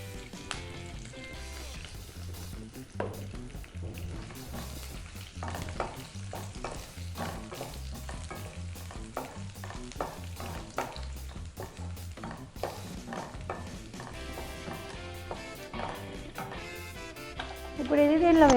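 Cumin seeds, curry leaves and a pinch of asafoetida sizzling in hot oil for Andhra-style pappu charu, a busy crackling fry with repeated scraping stirs of a spoon in the pan.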